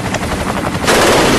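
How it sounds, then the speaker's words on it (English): Gunfire from a school shooting inside a library, a dense, loud burst of rapid shots that swells into a sustained roar with no voices. "He's shooting in the library right now."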